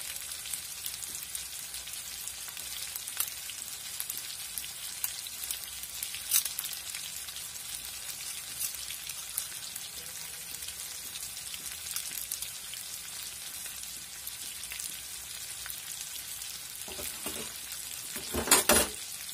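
Chicken shallow-fries in a small amount of oil in a pan, with a soft, steady crackling sizzle and a few louder pops and spits near the end.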